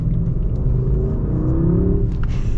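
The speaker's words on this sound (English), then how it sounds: "We're gonna pop into the Sport Plus mode for our acceleration here." A 2022 Mercedes S580 4Matic in Sport Plus mode accelerates hard, its engine note climbing steadily under a constant road and wind rumble, heard loud and close from inside the cabin.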